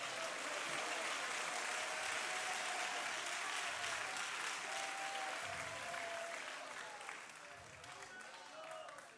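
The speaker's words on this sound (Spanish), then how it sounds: "Dale palmas al que vive." A church congregation claps in sustained, dense applause at a youth week service, loud and continuous before slowly thinning toward the end, with a voice faintly underneath.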